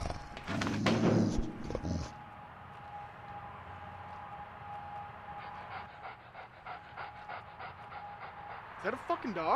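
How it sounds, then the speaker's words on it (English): A dog pants close by in quick rhythmic breaths after a short burst of louder noise, with a faint steady tone running under it. "Is that a fucking dog?"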